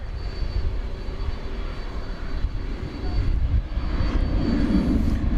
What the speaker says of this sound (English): the UPS 767 is on the move